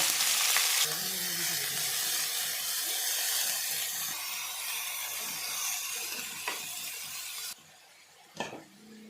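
Green tomatoes, mustard, chilli and a fried fish head cook in a pan, a steady hiss of frying with occasional stirring knocks, the sizzle dropping away sharply near the end.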